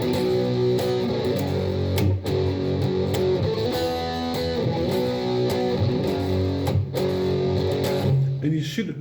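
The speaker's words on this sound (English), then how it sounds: "the overdrive with the rhythm hand should sound something like this" Electric guitar strummed in a busy rhythm pattern through overdrive distortion, played loud and steady with continuous chord strokes and a few brief breaks.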